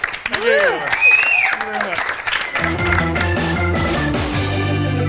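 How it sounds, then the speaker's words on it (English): Studio audience at a Christmas-themed comedy panel show applauding a contestant, loud clapping mixed with whoops and cheers, then fading under a music sting. "Ladies and gentlemen, a round of applause for Mr. Oliver Clark."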